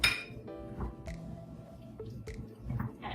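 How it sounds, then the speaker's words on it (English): Ripe but slightly tough avocado and beans being mashed with a masher for a bean and avocado wrap, giving repeated soft squishes and clinks of the masher against the bowl at close range, with no talking. "So when you're smashing your avocado and beans"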